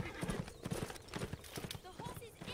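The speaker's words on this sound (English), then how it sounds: "The horse is injured, Father." An injured horse in the video game A Blind Legend clops along in a steady hoof rhythm and gives a faint whinny, heard at moderate distance under ongoing talk.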